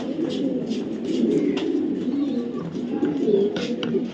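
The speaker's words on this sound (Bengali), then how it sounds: "এটা বিআরপিও ক্লাবের 25 সালের একটা মাদি কবুতর" A female racing pigeon coos in soft, repeated low throaty murmurs, close by and steady, with faint background noise.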